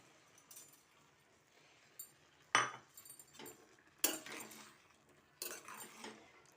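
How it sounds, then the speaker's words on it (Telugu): Cucumber pieces are dropped into a pot of eggplant cooking on the stove, giving a few sharp clinks of utensil against metal spread across a few seconds, set against a quiet background. "తర్వాత ఇందులో ఈ దోసకాయ ముక్కలు వేసేద్దాం"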